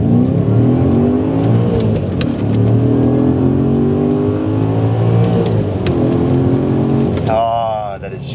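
Audi S4 with a 4.2-litre V8 and manual gearbox accelerating hard through the gears, a loud, close engine roar whose pitch climbs steeply, falls at each shift and climbs again.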